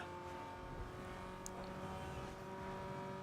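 A race car engine in Need for Speed Underground 2, during a drag race: a faint, steady, humming engine drone with no clear gear changes and no voices.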